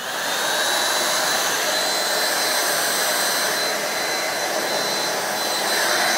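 A vintage Fairfax SCPD7 vacuum cleaner runs with a loud, steady, airy roar and a constant high whine, unbroken from start to finish with no talking.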